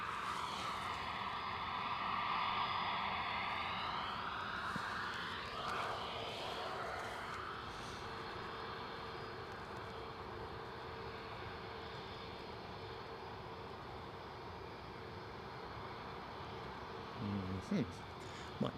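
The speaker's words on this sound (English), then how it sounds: "So inbound, British Airways from Heathrow, outbound, British Airways to Heathrow." British Airways airliner at Edinburgh Airport: a distant, faint engine roar and whine that swells early then settles into a steady broadband rumble, with a few short clicks near the end.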